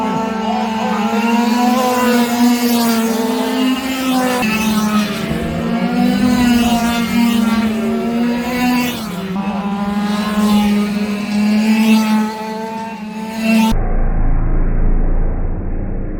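Engines of 1/4 scale RC sprint cars wail as they race around the Boulder City Speedway, a loud, close, continuous high-pitched whine rising and falling with acceleration, ending abruptly in a brief low rumble.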